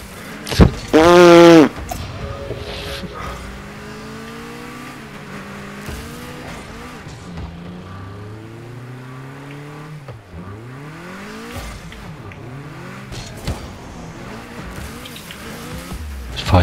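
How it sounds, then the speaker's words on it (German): Rocket League car driving in reverse around the arena, engine tone sliding up and down in repeated sweeps, with a brief loud burst near the start and other game effects scattered throughout. "Ich fahre hier erstmal eine Runde rückwärts."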